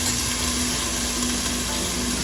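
Ginger garlic paste hits a hot pan with toasted cumin seeds for an eggplant curry, giving a steady, close, broadband sizzle that holds evenly throughout with no voices.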